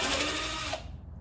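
A power drill or driver backing screws out of a wooden aquarium stand panel, a close, loud whirring burst that winds down sharply after about a second.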